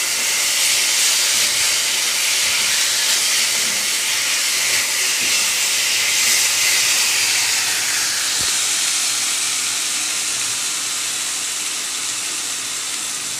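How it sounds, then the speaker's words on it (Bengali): Ground spices (chilli, turmeric, coriander-cumin) frying in oil in a pan, giving a steady, loud sizzling hiss that fades slightly toward the end, no voice. "ভালো করে কষিয়ে নেব তেল ছাড়া পর্যন্ত।"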